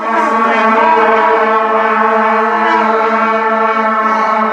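A school band sounds a sustained middle B together, one steady brassy unison tone held for several seconds at even loudness, with no talking over it.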